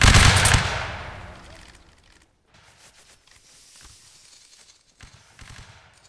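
A massed musket volley from Napoleonic line infantry in a battle game erupts as one loud, sharp crash, then rolls away into a long fading rumble, followed by scattered distant pops and shuffling.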